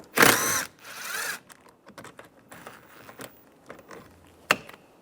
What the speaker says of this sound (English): Using a 10mm socket, take this bolt out.